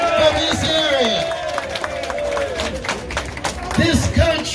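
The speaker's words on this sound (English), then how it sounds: "give a big round of applause to our great young Congressman, Jimmy Gomez" Applause and cheering from a crowd at a Bangladeshi American Democratic Party of California assembly, greeting Congressman Jimmy Gomez, with claps swelling under an amplified voice and babble throughout.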